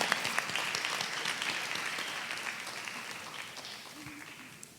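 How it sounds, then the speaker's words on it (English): Warm audience applause at a Hindu temple arangetram dance recital, a dense steady crackle of many hands clapping that slowly fades, with faint voices underneath. "So please give them a very special, warm round of applause."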